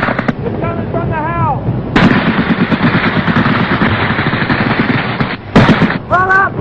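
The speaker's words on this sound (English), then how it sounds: "machine guns up here." Bursts of machine gun fire rattle loudly in rapid, sustained volleys during a 1966 war scene, with shouted voices heard briefly between the shooting.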